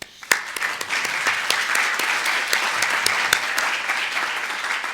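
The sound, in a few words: conference audience applause for sponsors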